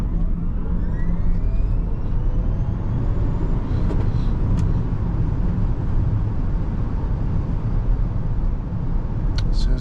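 A 2023 Rivian R1S electric SUV accelerating hard from 0 to 60 mph, heard from inside as a steady, loud broadband road and tyre roar with rising whine, continuous for the whole stretch with no talk.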